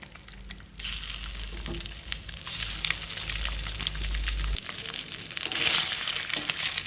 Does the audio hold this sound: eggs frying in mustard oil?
yes